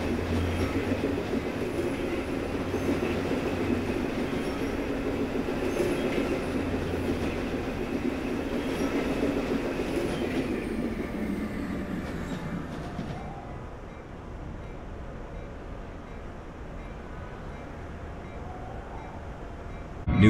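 NJ Transit train running on rails, a steady loud rumble of wheels and carriage noise for about thirteen seconds that then drops to a quieter interior hum, with no talking.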